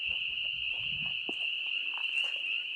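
At night in the woods around the Hinsdale House, a frog chorus forms a continuous high, shrill trill that stays steady throughout, with faint footsteps and rustling beneath it.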